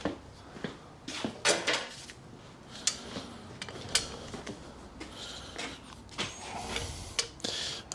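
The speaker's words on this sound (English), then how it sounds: "Should be able to squeeze that piston back in a lot easier than the old one." Mechanical clicks, knocks and scraping as a rear brake caliper piston is squeezed back in on a 2009 BMW 1 Series Coupe 2.0 diesel, irregular close metallic sounds with no talking.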